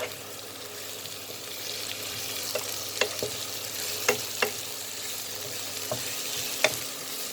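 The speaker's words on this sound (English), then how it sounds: "give it a stir" Button mushrooms frying in a pan with a steady sizzle. A spoon stirs them in scattered scrapes and taps, close and clear, with no voices.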